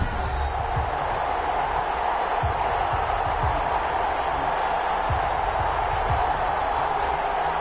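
Stadium crowd at a Madden 21 American football video game between the Los Angeles Rams and Tennessee Titans, a steady loud roar of cheering with scattered low thumps throughout.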